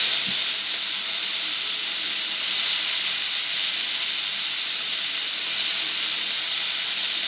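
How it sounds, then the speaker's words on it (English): Coated prawns fry in oil over a low flame, producing an even, unbroken hiss that stays steady and fairly loud without any talking. "So we just let them fry on one side on low flame for about 2 to 3 minutes"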